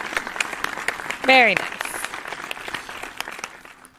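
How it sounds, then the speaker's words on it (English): An audience at a live-streamed puzzle show applauds, a steady patter of clapping running under a host's talk, with a brief high musical chime in the middle. "Round of applause"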